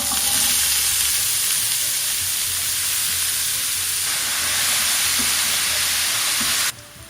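Vegetables sauté in olive oil with a loud, dense, continuous hiss and sizzle up close, easing slightly near the end.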